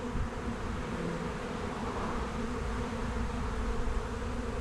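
A swarm of honeybees pours into a hive box, filling the air with a dense, continuous droning buzz of countless wings, close and steady throughout with no talking.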